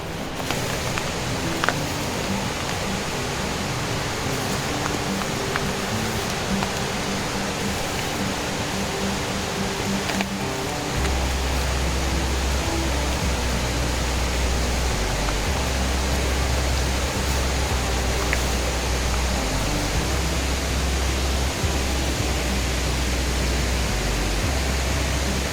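Waterfalls at Panchalingala Kona on a temple trek give a loud, unbroken rushing roar of falling water, steady throughout with a low rumble joining midway and no voices.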